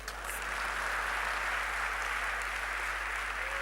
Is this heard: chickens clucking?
no